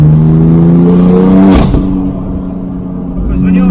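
A BMW M4 CS engine roars loudly close by at high revs with traction off, dipping briefly and then building again as the tyres spin and burn; no one speaks.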